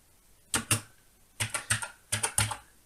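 Worn, crunchy keys on an Acorn Electron home computer keyboard are pressed in three quick clusters of sharp clicks, close and distinct against a quiet background, with no talking.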